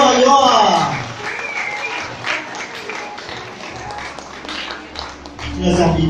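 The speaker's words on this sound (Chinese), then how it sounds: "好，我们给我们新郎哥一个鼓励的掌声，好不好？" Wedding guests applaud the groom before a champagne-pouring moment, a loud, dense burst of clapping hands that swells and holds, with a host's voice talking over it at the start and end.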